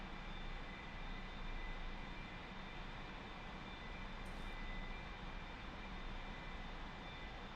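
A-4 Skyhawk jet in flight in the DCS flight simulator, heard as a constant, even engine roar from the cockpit that does not change for several seconds, with no talking.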